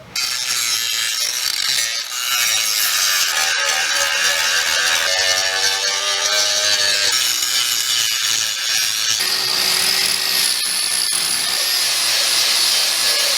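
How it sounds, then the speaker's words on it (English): A power tool grinds and buffs a welded steel patch panel on a trailer, a loud continuous whining abrasion with shifting pitch as the disc bites and lightens across the metal, steady for the whole stretch. "Patch is welded, so we're gonna go ahead, we'll buff this so it's all nice and flat"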